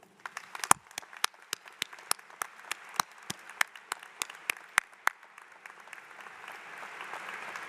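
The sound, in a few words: audience applause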